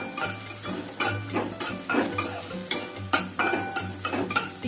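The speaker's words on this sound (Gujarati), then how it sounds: "ફૂલ ગેસે સાતરવાનું છે બધી વસ્તુ લસણ આદું અને મરચાંને થોડી વાર આપણે થવા દેવાના છે" Garlic, ginger and green chili sautéed on a high flame for Manchow soup, with repeated bursts of a spoon stirring and scraping the pan over a steady sizzle, close and fairly loud.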